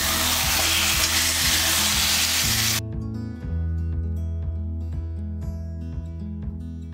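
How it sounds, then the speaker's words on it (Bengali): Fish head fries in a pan as it is stirred for a Bengali fish head curry, a dense sizzle that drops away after a few seconds, under a steady background melody of music. "মাছের মাথাটা এর মধ্যে এবারে কষা দিলাম"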